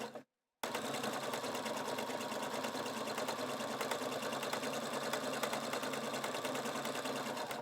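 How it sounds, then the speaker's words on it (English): Husqvarna Viking Sapphire 960 sewing machine running an overcast stitch along a fabric edge, a loud continuous rapid mechanical whirring and needle chatter that starts after a brief silent gap and runs unbroken to the end. "go ahead and start to stitch"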